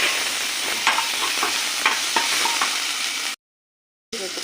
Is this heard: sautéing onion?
yes